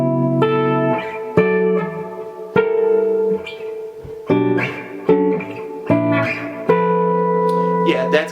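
Guitar chord section with sharp-11 voicings: sustained, ringing chords with reverb, changing roughly every second with plucked attacks, played solo at moderate volume.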